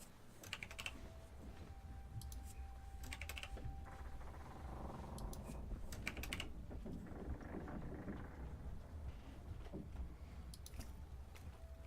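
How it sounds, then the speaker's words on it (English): Rapid clatter of keys on a computer keyboard while entering Dungeons & Dragons 5E character stats, steady bursts of close typing with short pauses over a low background hum. "I almost feel like I shouldn't be typing these in"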